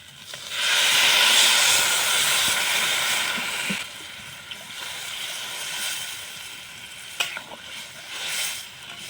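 Water poured onto fried spice paste in a pan bursts into a loud steamy hiss that fades over a few seconds into quieter bubbling and sizzling, with occasional stirring clicks and no talk.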